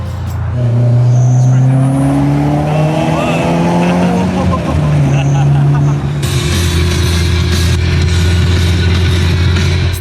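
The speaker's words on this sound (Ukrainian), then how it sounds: "Mitsubishi Lancer." A Mitsubishi Lancer car on the road to Frankfurt, a loud steady engine and road drone from inside, with pitch shifting as it accelerates and a broad rushing noise later on.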